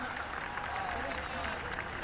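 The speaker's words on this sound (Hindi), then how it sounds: "जोरदार तालियों के साथ अभिनंदन।" A crowd at a Vijaya Dashami celebration claps in a steady, dense wash of applause heard from a distance, while someone speaks over it through a loudspeaker.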